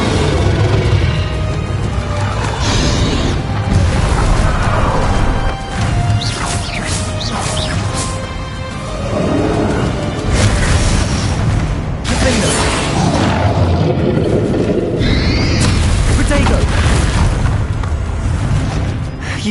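Bombarda explosion spells in Hogwarts Legacy, several loud booming blasts with crashing debris and whooshes spread across a busy combat mix, with a few spoken lines.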